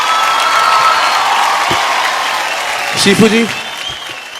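Loud, sustained applause from a studio audience, a dense wash of clapping lasting several seconds, with someone briefly speaking over it near the end.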